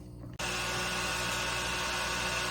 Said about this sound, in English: excuse the noise. I had to turn my heat gun on.